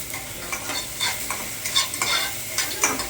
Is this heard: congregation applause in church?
no